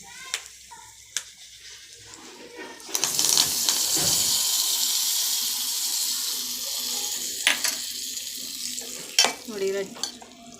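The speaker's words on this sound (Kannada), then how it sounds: "ಇವಾಗ ಒಗ್ಗರಣೆಗೆ ಸಾಸಿವೆ, ಜೀರಿಗೆ, ಕರಿಬೇವು ಮತ್ತು ಒಂದು ಒಣಮೆಣ್ಸಿನ್ಕಾಯಿ ಹಾಕ್ಕೊಂಡಿದ್ದೀನಿ" Mustard seeds, cumin, curry leaves and a dry chilli sizzle in hot oil for a tempering, a loud steady frying hiss with sharp crackles and pops, close by and with no talk.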